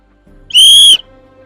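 One sharp, shrill whistle blast lasting about half a second signals the start of a balloon-popping game at a lively gathering, loud and close against quiet surroundings.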